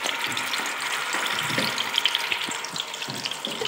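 Chicken being added to hot oil for korma, a steady close sizzling hiss with faint crackles and a few light clinks, no speech.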